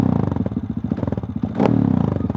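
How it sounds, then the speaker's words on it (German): A Husqvarna 630 motorcycle engine revs loudly and close by, with rapid rhythmic firing pulses, a brief clatter partway through, then a sustained higher rev. "Also das Wichtigste ist immer, dass ein Motorrad laut ist."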